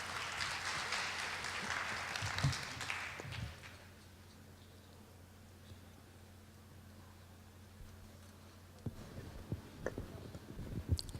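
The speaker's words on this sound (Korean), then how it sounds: "큰 박수로 맞아주시기 바랍니다" Audience applause at a cybersecurity conference session fills the first few seconds, loud and dense, then fades into quiet room noise, with scattered sounds returning near the end.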